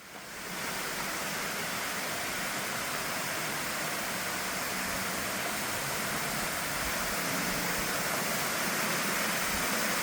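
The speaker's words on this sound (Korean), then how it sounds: "이곳이 진짜 문원 폭포입니다." Munwon waterfall in Gwacheon, Korea, a rain-fed fall plunging tens of metres down a cliff, roars as a steady, full, unbroken wash of rushing water heard from close range.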